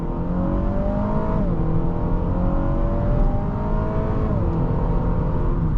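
A 2021 Acura ILX A-Spec with a dual-clutch transmission accelerates hard, its engine note climbing steadily and dropping twice at upshifts, loud and close throughout with no talking.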